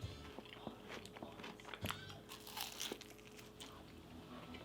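Crisp crunching bites into a tiny fried venison taco, a few sharp crunches followed by softer chewing and crinkling, close to the mic with no talk.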